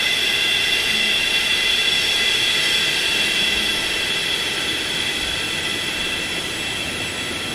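Boeing 737-200 jet engines held at breakaway thrust in a flight simulator, a loud, steady roar with hissing highs that stays nearly constant throughout and eases slightly toward the end.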